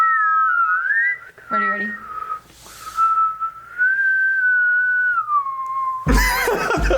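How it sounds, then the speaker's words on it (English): A person whistles a wavering tune, the pitch sliding up and down in long sustained phrases, with brief spoken words and a burst of loud noise near the end. "Should we try whistling?"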